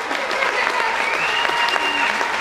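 An audience at a comedy ventriloquism show aboard the Carnival Breeze cruise ship applauds steadily and loudly, with whoops and voices heard through the dense clapping.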